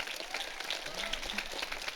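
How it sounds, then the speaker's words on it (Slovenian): An audience at a choir event gives quiet, fairly distant applause for the choir director, steady clapping with faint murmurs underneath. "En aplavz za našo zborovodkinjo."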